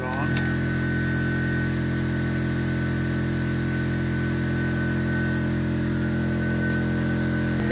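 An air compressor builds back up to pressure, giving a loud, steady, unbroken motor drone with a constant hum throughout.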